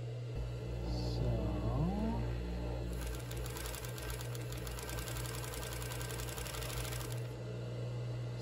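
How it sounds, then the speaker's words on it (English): An overlock sewing machine runs on its own with no fabric fed through, a steady fast mechanical whir from about the three-second mark to seven seconds over low background hum, with a brief faint voice-like sound before it starts. "you don't have to have fabric in this machine to get an overlock stitch."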